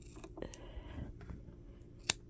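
Scissors snip through synthetic wig hair at a double-weft edge, a few soft cuts followed by one sharp, close snip near the end, with no talking.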